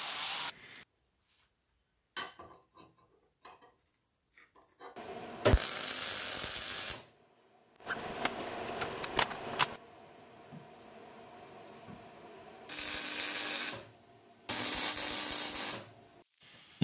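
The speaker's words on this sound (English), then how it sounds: "So it's back to the angle grinder and a flat disc just to tidy up the ends." An angle grinder fitted with a flat disc tidies the cut ends of steel crucible tongs in several loud, harsh bursts, each lasting one to two seconds, with quiet pauses and scattered small knocks in between.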